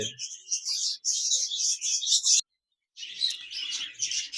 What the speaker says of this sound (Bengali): এখানে দেখতে পাচ্ছেন একজোড়া লুটিনো রেড আই বাজরিগার পাখি রয়েছে